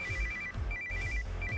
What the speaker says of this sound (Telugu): ఈటీలో ఫోన్ చేసిందేంటి?